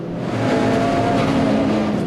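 Racing cars at Brands Hatch, including a big 5.4-litre V8 Aston Martin Vantage, roar at full throttle in a dense, steady engine wash without talk.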